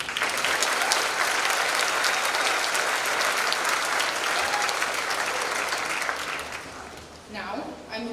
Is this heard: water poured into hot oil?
no